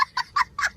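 A rooster from a rural farm gives four short, clipped clucks in an even rhythm, fairly close and moderately loud, with no talking.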